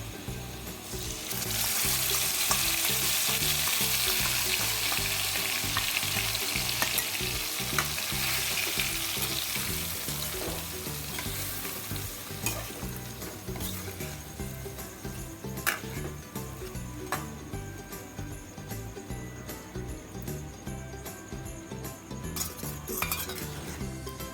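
Spiced onion masala sizzling in a pan while a utensil scrapes and stirs it, a loud steady fry with frequent clinks of metal against the pan, no voices.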